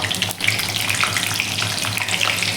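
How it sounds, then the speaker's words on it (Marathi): Slit green chillies sizzle in hot oil over a low flame, left in the pan after frying onion bhaji; a steady, close, even crackle and hiss runs the whole time with no voices. "आणि ती देखील बारीक गॅसवरती आपण छान अशी फ्राय करून घेऊया"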